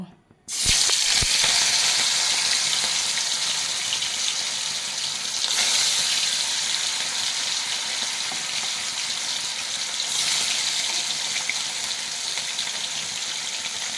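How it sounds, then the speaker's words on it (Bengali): Fish pieces slid into hot oil in a pan, setting off a sudden loud, steady hissing sizzle that holds continuously close by, with slight swells as more pieces go in. "সব মাছগুলো আমি ভেজে নেব"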